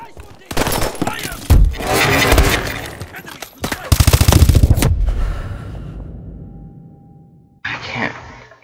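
Loud automatic gunfire from the Call of Duty Advanced Warfare campaign crackles in rapid bursts inside a kitchen, with short gaps, a long fading echo, and then one more burst at the end.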